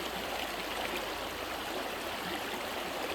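Ice-cold creek water at North Cheyenne Cañon Park flows in a steady, close, full rush with no breaks or other sounds on top.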